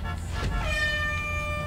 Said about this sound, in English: Encouragement honks.